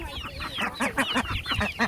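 Young chickens about eight weeks old clucking close by, a rapid series of short, overlapping clucks and chirps with no pauses and no talking.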